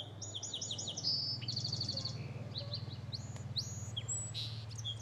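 A wild bird sings a quiet song in an urban setting, a series of soft, rapid high chirps and trills repeating in short phrases over a steady low background hum of traffic noise.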